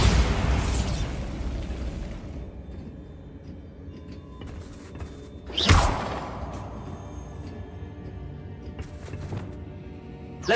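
The Bombarda explosion spell in the Hogwarts Legacy video game goes off in booming blasts: one heavy burst opens, and a sharp whooshing explosion lands midway over a rumbling background.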